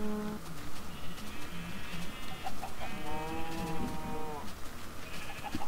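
Minecraft chickens give short clucking blips mixed with a longer bleating farm-animal call, quiet game sounds over a busy background.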